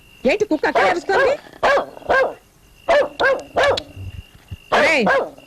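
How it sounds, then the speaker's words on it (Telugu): A dog barks close by in quick, loud clusters of sharp barks with short gaps between them, heard alone without talk. "కుక్క ఎందుకు అరుస్తోంది చూడండి రా."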